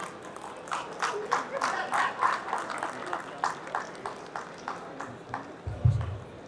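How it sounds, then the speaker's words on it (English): An audience at a sustainability and heritage event in Jaipur applauds steadily, a broad patter of many hands clapping at moderate distance, rising and falling in waves. "Big round of applause for the entire"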